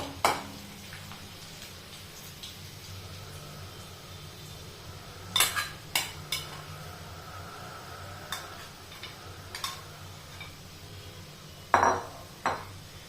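Crushed garlic sautéed in hot oil in a pan, with sparse metallic spoon clinks and scrapes over a faint, steady sizzle. No one speaks.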